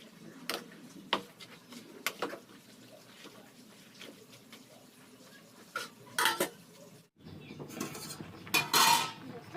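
A utensil scrapes and clinks against a pot while boiled green vegetables are stirred and mixed in local Arunachal Pradesh style, with irregular metallic knocks over a faint simmer and a few louder clatters near the end.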